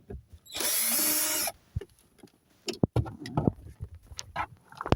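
A power drill whirs steadily for about a second as it backs screws out of the underside of a BMW E60 530i dashboard, followed by scattered clicks, taps and handling of loose parts.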